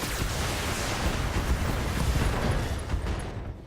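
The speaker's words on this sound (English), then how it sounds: "ammo explosion" An ammo explosion in the Battletech video game rumbles as a dense, sustained roar of blast noise lasting several seconds and fading slightly at the end.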